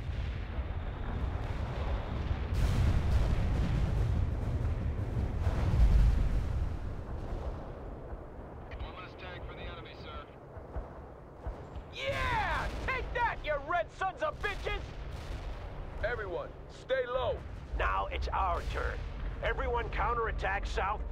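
Air strike bomb explosions in the video game World in Conflict, heavy deep booms and rumbling blasts rolling in succession, with distant gunfire and intermittent battlefield radio voices over the din.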